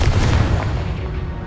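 Confringo blast spell in Hogwarts Legacy, a loud, booming explosive burst that fills the moment and rumbles off, with no talking over it.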